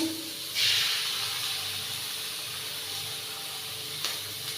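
An egg hitting a pan of lightly fried onion bursts into a loud hiss that settles into a steady sizzle, with a brief tap near the end and no talking.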